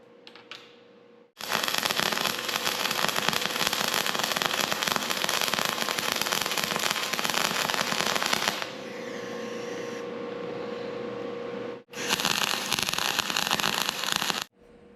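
Stick welding arc on a home shop welding table, a loud steady crackle and sizzle running continuously with a brief break near the start and another short pause before it strikes again.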